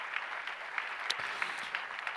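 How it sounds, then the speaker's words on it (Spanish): A church congregation gives faint, distant applause during a Spanish-language service, a soft continuous patter of hand claps with a few sharper claps poking out. "Da un aplauso al Señor"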